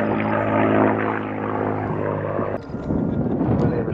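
A propeller warbird, a World War II–era American fighter, howls overhead during an inverted pass at an airshow, with a loud sustained engine drone that shifts in pitch midway as it passes.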